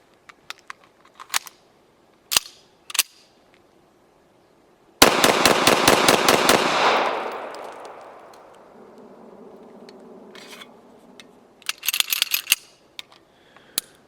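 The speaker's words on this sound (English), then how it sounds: "Let's shoot off this mag here from the FEG Hi Power." A FEG P9M Hi Power 9mm pistol fires a rapid string of close, loud shots around the middle, followed by a long fading echo, with a few scattered sharp clicks and handling knocks before and after.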